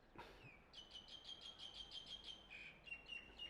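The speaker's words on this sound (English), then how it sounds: "You got the birds whistling." Birds in Thailand whistle in a quick repeating series of high, bright notes, fairly faint against a soft outdoor background hiss.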